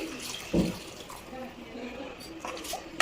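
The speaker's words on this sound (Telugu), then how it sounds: "ఇందులో మనకి తగినన్ని వాటర్ వేసుకోండి" Water is poured into a paneer butter masala curry in a pan: a brief splash, then a soft, low trickle that fades under quiet kitchen background.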